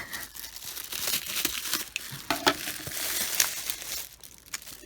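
Packaging for a typewriter-style music box gets crinkled and torn open up close, a run of rustling, crackling bursts with sharper ripping moments and no talking.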